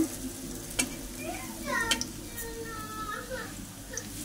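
Wet lentil dumplings fry in hot oil in a previously used, unwashed wok, giving a steady sizzle with occasional ticks and stirring clinks while someone talks over the cooking.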